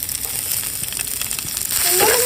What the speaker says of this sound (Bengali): তেল গরম হয়ে গেছে তো প্রথমেই দিয়ে দিচ্ছি পেঁয়াজ কুচি তারপরে দিয়ে দিচ্ছি মরিচ কুচি ও রসুন কুচি